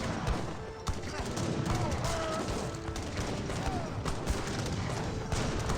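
Heavy cannon fire and gunfire crackle through a busy real-time strategy game battle, with a Tsar cannon on the field among many units, dense and continuous explosive booms throughout.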